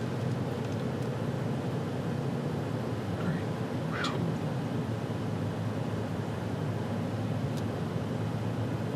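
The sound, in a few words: air conditioning blowing through ducts in 2020 Rolls Royce Cullinan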